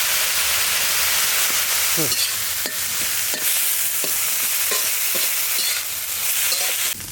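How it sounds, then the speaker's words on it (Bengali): Loud, dense hiss of pumpkin leaves frying in hot oil with garlic and nigella seeds, with periodic scrapes of a spatula stirring through the pan. "কুমড়ো শাক রসুন কালো জিরে দিয়ে ভাজা হয়ে গেছে"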